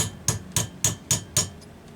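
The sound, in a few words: hammering back a locking tab on McCulloch chainsaw plate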